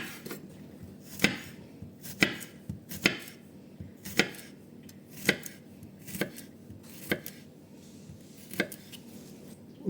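Knife chopping garlic and hot pepper on a cutting board for a Vietnamese-style dressing, a steady series of about a dozen sharp, close chops at an uneven rhythm, with no talking.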